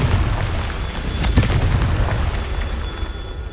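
A Confringo spell explosion in the video game Hogwarts Legacy gives a single booming burst with a sharp crack, over a low continuous rumble of in-game ambience.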